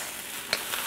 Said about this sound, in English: I just crank the heat because I wanna dry out the rice, get some toasty flavor going